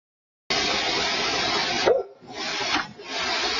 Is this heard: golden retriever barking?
yes